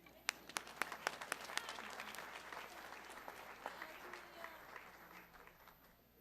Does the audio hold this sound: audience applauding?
yes